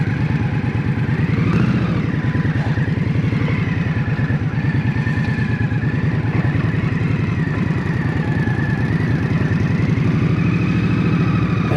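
An Indian Scout Rogue motorcycle engine runs steadily while riding through turns, a loud, close, continuous throbbing rumble with gentle rises and dips in pitch and no talking.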